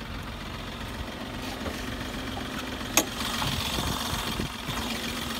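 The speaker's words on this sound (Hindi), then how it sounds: "और ये है inline 3 cylinder 1050 CC Revotorq intercooled turbo diesel engine." A 2018 Tata Tigor's 1050cc inline three-cylinder Revotorq intercooled turbo diesel idles steadily with the bonnet open, a close, even low rumble with a light mechanical clatter and one brief sharp tick midway.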